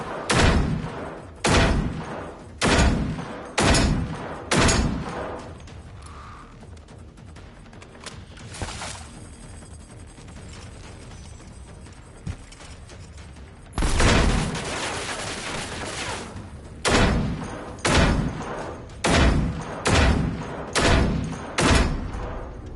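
Loud bursts of gunfire aimed at robots in the game Generation Zero, coming in evenly spaced volleys at the start and end with a quieter stretch between them, close and punchy with no talking over them.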